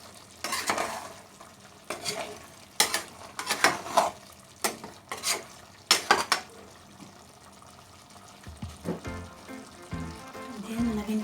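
Chicken wings with long green chillies and black pepper in coconut milk are stirred in a pan, with a series of sharp utensil scrapes and clinks over a low simmering sizzle, then a quieter stretch near the end.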